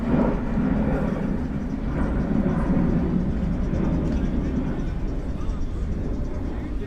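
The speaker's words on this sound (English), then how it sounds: "just gonna wait for the plane to pass" An airplane passes overhead as a broad, steady low roar that holds for several seconds, loud and close-sounding, with a voice speaking faintly underneath.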